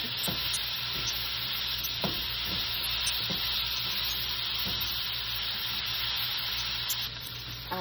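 Sausage browning in oil in a pan while making jambalaya, with a steady, close, dense sizzle running throughout and occasional soft scrapes of stirring.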